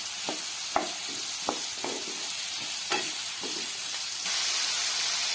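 Chopped onions frying in a pan for a spiced aloo baingan dish, with a steady sizzle and hiss broken by several sharp stirring scrapes and clinks, growing a little louder near the end.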